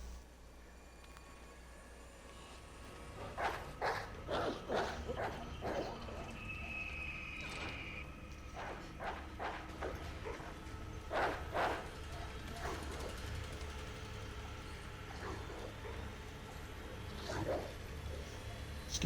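Dogs in Resident Evil 2 growl and snarl in short bursts at close range against a quiet, low rumbling ambience, several sharp barks clustering together.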